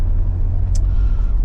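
An INEOS Grenadier's engine drones as it gets up to speed on an open road, a loud, steady low rumble with road noise and a brief hiss partway through.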